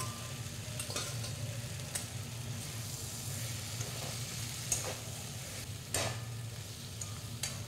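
Fried onion stalks are stirred into a fish curry with aubergine and potato, giving a soft, quiet sizzle under a low steady hum. Occasional scraping clicks from stirring come through, and no one talks.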